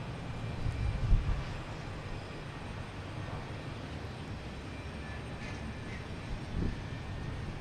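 A Delta Embraer E-170 jet arrives on its landing approach at Boston Logan, its engine a broad, steady distant roar that holds evenly throughout, with no voices.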